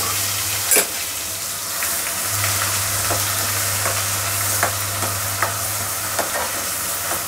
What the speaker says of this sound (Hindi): और इसको लगातार चलाते हुए भून लेंगे